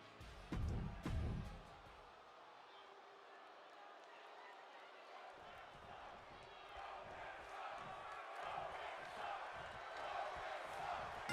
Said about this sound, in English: you can hear how the crowd feels about Roman right now